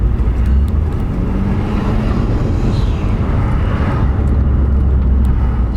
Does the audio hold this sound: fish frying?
no